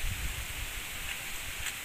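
Strong wind rushes through leaves outdoors as a constant dense rustle and hiss, with low gusty rumble on the microphone and no speech.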